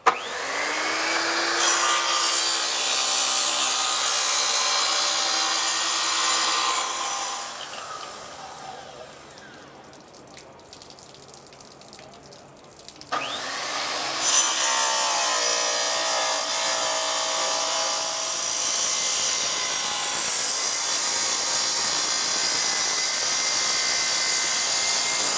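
A 7.5 inch circular saw cuts through wood in two loud, steady passes with a strong high whine, separated by a few seconds of quieter winding down before the blade bites again; no voices.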